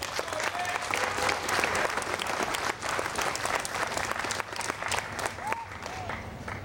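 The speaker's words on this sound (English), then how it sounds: "Please give him a round of applause." An outdoor crowd at a First Friday community event in Towanda, Pennsylvania, claps in sustained applause with a few cheers and voices mixed into the steady wash of hands.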